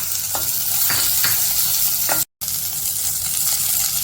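Big onions and small shallots sauté in a pan with green chili and ginger for coriander chutney, making a steady sizzle broken by a few spoon scrapes. The sound drops out briefly partway through and then resumes, with no voices.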